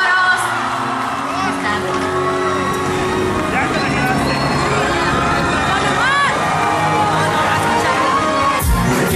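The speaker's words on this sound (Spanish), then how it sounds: "¡Fuerte aplauso," A beach crowd at a seaside show cheers and whoops loudly over pounding music, with shouts and hubbub filling the whole stretch.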